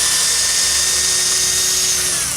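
A power drill whines close and loud in a steady high-pitched buzz while backing screws out of concrete sidewalk forms, with no talking over it.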